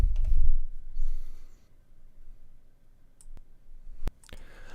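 A computer mouse clicking at a desk, with a few sharp isolated clicks spread over several seconds and faint low rustling in between.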